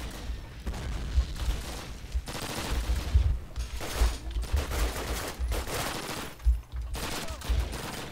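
Rapid bursts of gunfire from the original early-2000s Call of Duty campaign, with dense automatic fire and booming shots in clustered volleys and brief lulls, loud and busy throughout.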